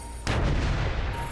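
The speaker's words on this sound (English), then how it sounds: "Sounds of explosions." A single heavy explosion booms suddenly in the Dota 2 video game during a professional esports grand final match, with a deep rumbling body that sustains to the end of the short moment.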